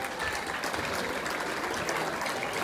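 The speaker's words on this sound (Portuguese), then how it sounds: "eu queria uma grande salva de palmas para eles e muito obrigado" An audience at the Festa dos Tabuleiros festival claps steadily and densely for a few seconds. The applause stays loud and even throughout, with no voices standing out.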